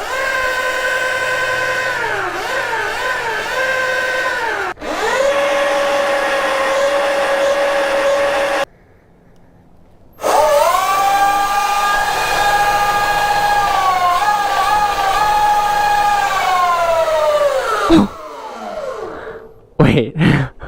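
An eRide Pro SS electric dirt bike whines loudly at full throttle, its motor pitch rising and falling in several long pulls broken by short pauses, ending with clicks.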